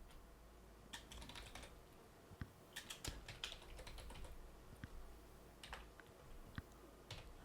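Quiet, close-up typing on a computer keyboard: irregular bursts of light key clicks and taps, with short pauses between words and no voices.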